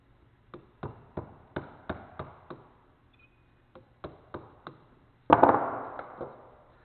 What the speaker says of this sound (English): So holding the chisel tight here at half the blade so it does not shoot all the